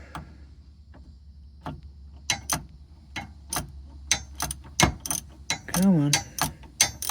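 Ratchet wrench cranking on an engine part of a 2001 Ford F-250 Super Duty during a timing chain and oil pump job: irregular bursts of sharp clicking pawl ticks, close and fairly loud, with a brief vocal sound near the end.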